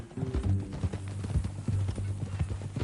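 Horse hooves clip-clop at a steady walking rhythm in the Western game Red Dead Redemption, close and clear, with a low ambient drone beneath and no talk.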